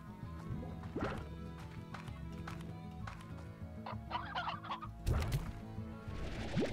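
Chickens in the video game Slime Rancher give scattered clucking calls, several short bursts over a few seconds, set against a steady bed of ambient game sound.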